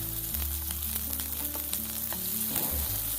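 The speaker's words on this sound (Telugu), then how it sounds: "ఇవన్నీ పచ్చివాసన పోయేంత వరకు హై ఫ్లేమ్లో పెట్టుకొని మనం ఫ్రై చేసుకోవాలి" Beans, capsicum and green chillies stir-fry over a high flame, a continuous hissing sizzle with light crackle and a low burner hum beneath, heard close with no talk.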